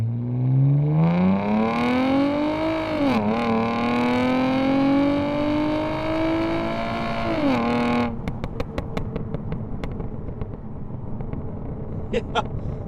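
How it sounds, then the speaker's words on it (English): A car on an acceleration run, its engine note climbing steadily through the gears with a brief dip before settling into loud, rough running broken by sharp pops and backfires toward the end. "This thing is popping, backfiring, all sorts of stuff"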